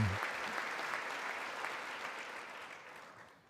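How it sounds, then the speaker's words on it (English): Sustained crowd applause rolls on steadily at a political speech watch, a fairly distant, even wash of clapping that fades slightly toward the end. "y'all better clap big time"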